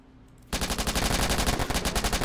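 Sustained automatic gunfire from a machine gun in the video game Warfare Online, breaking in loud after a quiet half-second and continuing as a rapid, steady burst of shots with no talk.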